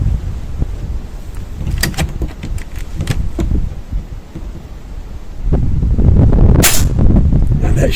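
An air rifle fires a pellet on a very windy day, a sharp close report standing out against continuous gusty wind rumble, with another brief crack later.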